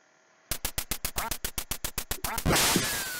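Rapid, evenly spaced duck quacks from the NES game Duck Hunt, about a dozen sharp calls in quick succession, ending in a louder, noisy burst.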